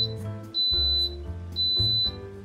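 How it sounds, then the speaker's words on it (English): An Instant Pot pressure cooker signals the end of cooking brown rice with clear, high electronic beeps, each held briefly, repeating at a steady pace close to the microphone. "as soon as the 22 minutes are up, you're gonna hear 10 little beeps like that"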